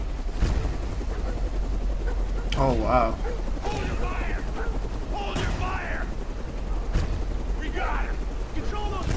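Gunfire in the video game Beyond: Two Souls: several sharp, loud bangs spaced a few seconds apart over a steady mechanical rumble, with people talking in between.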